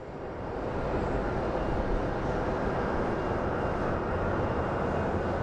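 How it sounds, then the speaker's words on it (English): A SkyWest plane lands at Phoenix Sky Harbor airport. Its engines make a steady broadband roar that swells in and holds loud and continuous, with no talking. "That's a SkyWest landing"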